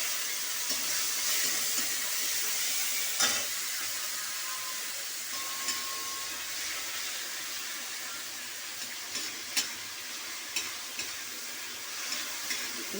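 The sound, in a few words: shrimp frying in hot oil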